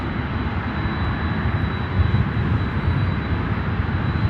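A wide-body jet airliner at Chicago O'Hare airport roars steadily and loudly, a broad continuous engine rumble with no break, swelling slightly midway.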